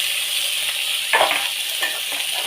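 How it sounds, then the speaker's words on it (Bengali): Squeezed radish greens fry in hot oil with dried chili and nigella seeds, a steady close sizzle with a brief louder hiss and stirring scrape partway through, no voices. "শুকনো লঙ্কা কালো জিরেটা একটুখানি গরম হয়ে যাওয়ার পর আমি ওই যে চিপে রাখা মুলো শাকটা এর মধ্যে দিই"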